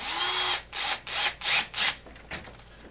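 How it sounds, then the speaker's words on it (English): Power screwdriver driving a screw into the A-arm of an HPI Baja SS RC car, five short close whirring bursts in quick succession with a faint brief buzz after, no talk. "put the screw in where the nub is, and tighten it up"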